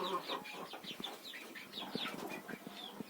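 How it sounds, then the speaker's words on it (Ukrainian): Hens clucking in a village chicken coop, several birds making close, overlapping short clucks with soft wing rustling and scratching in between. "Так, ну що, сюди вже і кури позаходили."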